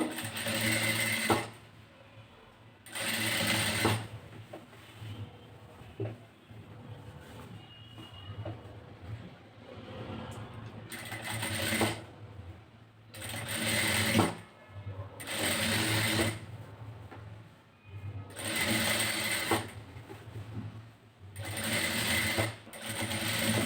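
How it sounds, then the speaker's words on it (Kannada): A sewing machine stitches around a blouse neck in repeated bursts of fast, rattling whirring, close and fairly loud, separated by short pauses while the fabric is turned, with no talking. "ಇದನ್ನ ಹಾಗೆ ಸುಮ್ಮನೆ ರೌಂಡ್ ಶೇಪಿಗೆ ಹೊಲ್ಕೋತಾ ಇದ್ದೀನಿ"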